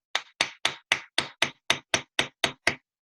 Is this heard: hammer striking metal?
yes